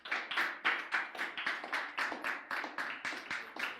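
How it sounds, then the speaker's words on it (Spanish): A church congregation during a Spanish-language sermon claps together in a steady, even rhythm of roughly three beats per second. The sound is moderately close and continues without pause for the whole stretch. "Denle un aplauso al Señor."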